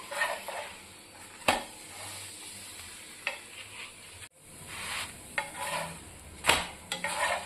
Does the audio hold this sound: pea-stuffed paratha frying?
yes